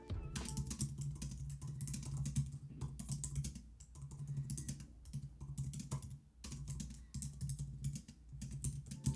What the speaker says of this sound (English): The keyboard feels really nice and is extremely easy to type on.